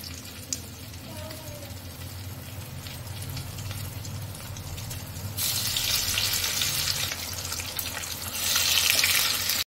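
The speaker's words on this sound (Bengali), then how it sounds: "এবার এরকম করে একটা করে মাছ ডিপ করব, আর গরম তেলের উপরে ছেড়ে দেব।" Topshe fish, dipped in batter, sizzles in hot oil over a low gas flame. A steady, close frying hiss swells louder partway through as more pieces go into the oil.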